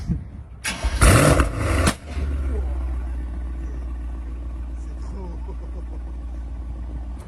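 A tuned Mercedes-AMG E63 W213 V8 cranks and fires with a brief loud roar, then settles into a steady, deep, rumbling idle.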